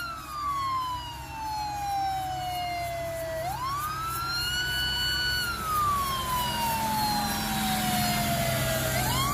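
Wailing police car siren from a line of police cars, rising and falling in slow sweeps with strong harmonics over a steady low engine rumble, loud and continuous with no talking.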